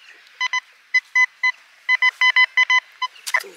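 A metal detector searching a beach gives a series of short, sharp electronic beep tones in irregular clusters. A brief rustle or scrape follows at the end.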